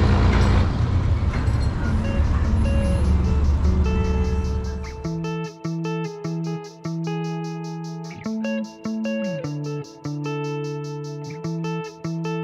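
Heavy vehicle rumble from traffic driving off a ferry fades out in the first few seconds, giving way to loud, regular reversing beeps that repeat steadily with several overlapping tones.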